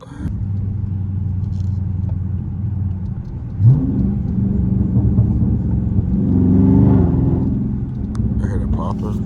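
An SRT car with a newly fitted air intake, driven on a wet road, rumbling and revving continuously up close, the engine note climbing around the middle, while a voice talks over it.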